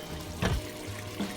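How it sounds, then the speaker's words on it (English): A small cup of water is poured into curry paste for a spinach curry stew with chicken and tilapia, making a brief, soft splash and trickle over a quiet room background. "I have a little cup of water you can add to the paste."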